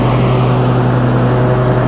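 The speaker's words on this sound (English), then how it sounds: "So from here, guys, I'll rev all the way up." A John Deere X380 lawn tractor engine runs loud and close at high throttle, a steady humming drone with a fine rapid pulse that holds constant throughout, with no voices.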